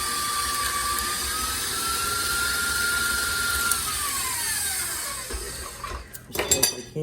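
An electric mixer whirs steadily while beating lemon cookie dough with dry ingredients, its pitch sagging as it works, then cuts off into a few close clinks and knocks of bowl and utensils.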